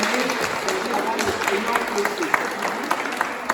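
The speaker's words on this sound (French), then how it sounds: "on va les applaudir, les bénévoles de l'association qui travaillent énormément au quotidien" An audience at an outdoor association event in Epieds claps for the volunteers, a moderate patter of applause blended with crowd murmur and voices.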